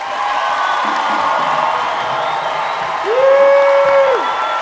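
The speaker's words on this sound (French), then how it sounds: "Acclamons le Seigneur." A church congregation cheers and applauds in a broad, moderate wash of clapping and crowd noise, mixed with sustained music and a held tone rising near the end.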